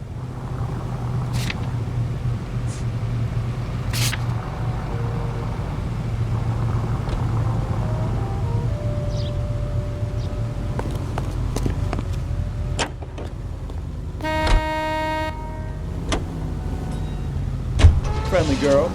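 Car driving in the game L.A. Noire, with a steady engine hum and road rumble throughout, a few clicks and a brief mechanical whir near the end, and a voice speaking over it.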